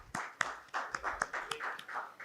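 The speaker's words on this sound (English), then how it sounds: "May we have a round of applause?" Scattered clapping from a small audience welcoming speakers at a higher education leadership panel, a few sparse claps, moderately near and fairly soft.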